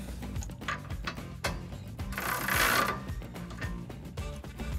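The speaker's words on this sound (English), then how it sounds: "And then we can tighten that down with our 21 millimeter socket." A ratchet with a 21 millimeter socket tightens a bolt on Body Armor 4x4 Revo rock sliders being fitted to a Toyota Tacoma, giving a series of close mechanical clicks that swell into a louder burst midway.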